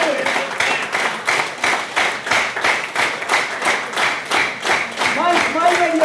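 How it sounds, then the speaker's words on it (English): An audience at a Lions Club International event claps in rhythm, a run of quick, fairly even claps from a group close by, while speech rises faintly at moments beneath the clapping. "Let's keep clapping."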